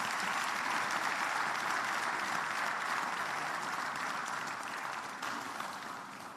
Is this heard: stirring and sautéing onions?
no